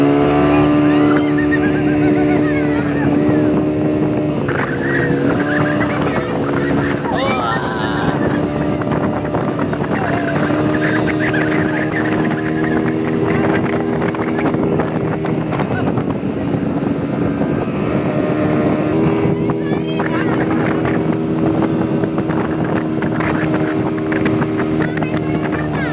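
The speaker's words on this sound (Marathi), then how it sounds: "आता पुन्हा एकदा स्पीडबोट राईड" A speedboat roars along at speed, its engine drone loud and continuous with shifting pitch as it turns, wind buffeting the microphone throughout.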